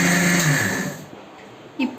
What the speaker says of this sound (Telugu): మిక్సీ పడదామండి.